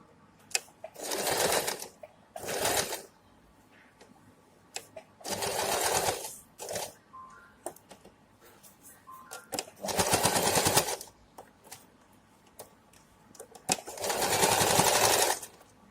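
A sewing machine stitching a pair of trousers runs in several loud rattling bursts, each a second or two long, with quiet pauses between them.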